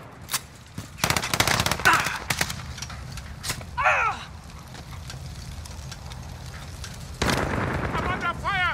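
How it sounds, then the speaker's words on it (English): Gunfire in the video game Call of Duty: Modern Warfare (2019): bursts of rapid automatic shots, single cracks and whizzing effects over a rumbling battle background, with a voice briefly speaking. "I'm under fire."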